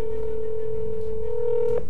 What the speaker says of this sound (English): See if we can actually get Devon on the phone